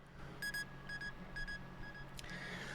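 Synth pluck built from a resampled blow across a beer bottle, playing a short rhythmic melody of bright, tonal pips in small clusters, faint and quiet over a soft background hum.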